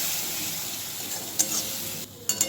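A spice paste with tomato and chilli sizzles steadily in oil as it is stirred, with a couple of brief metallic clinks from the spoon near the end.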